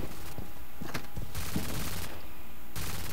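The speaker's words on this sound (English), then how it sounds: "that's a lot of gunshots" Rapid bursts of video game gunfire from the horror shooter F.E.A.R., several loud crackling volleys separated by brief pauses, heard alone with no talk.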